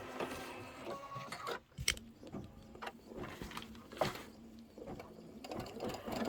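An embroidery machine stitches a cut line for a Santa cinch sack, running in a steady mechanical whir broken by a few louder clicks and knocks.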